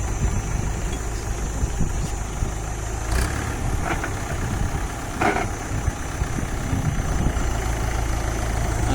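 A tractor engine idles steadily on a farm field after a restart, with a low, even rumble that runs unbroken throughout. A few faint knocks and clatters rise briefly above it.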